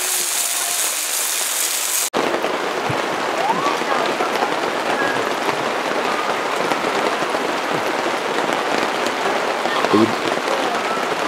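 Steady rain patters on a mountain campsite during a cast-iron campfire breakfast, a dense even hiss that starts abruptly and continues throughout, with faint occasional voices and small knocks beneath it.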